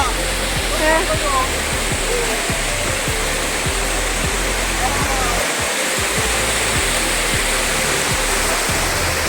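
Cold mountain torrent at Rangbhang rushing loudly and steadily close by, a dense unbroken roar of water with a brief dip midway and faint voices beneath.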